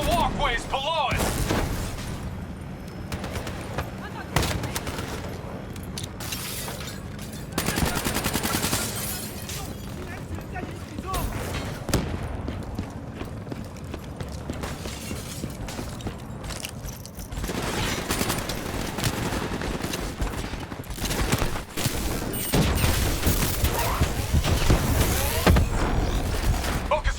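Sustained turret gunfire and explosions rage in a Call of Duty Black Ops III firefight, dense bursts of shots and booms running continuously under scattered combat shouts from soldiers.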